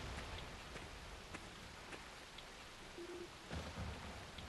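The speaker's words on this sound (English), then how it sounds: "Rain's really starting to pick up" Steady rain falls in the video game Ys: Memories of Celceta, a constant soft hiss with scattered drops and a faint low rumble throughout, with no talk over it.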